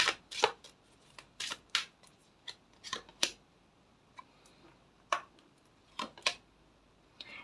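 Tarot cards being drawn and shuffled by hand, a string of crisp, close riffling snaps and slaps in uneven bursts with short pauses between them.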